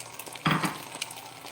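Batter sizzles and bubbles in a hot ceramic pan, with a short burst of crackling and a utensil clink, close and brief, with no talking.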